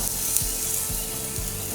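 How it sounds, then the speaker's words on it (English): Chicken wings sizzle and crackle steadily on the top rack of a gas grill, a close, continuous hiss with a few low thumps or knocks spaced through it. "we're going to get these wings on the grill here"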